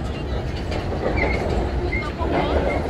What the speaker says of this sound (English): Wait a minute, I got on the wrong train.